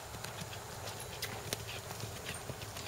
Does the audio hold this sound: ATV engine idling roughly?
no